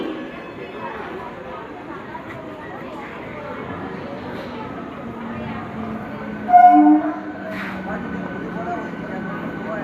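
Busy railway platform at night with crowds waiting, a low continuous train rumble, and a brief louder horn-like blast about two-thirds through, all under a murmur of background voices.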